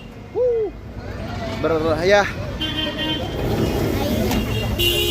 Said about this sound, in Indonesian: Bunyi klakson ada di mana-mana teman-teman, lihat.